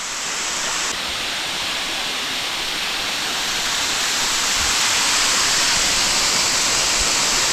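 A waterfall in a natural setting roars close by, a dense and steady wash of falling water that grows slightly louder toward the end, with no one talking.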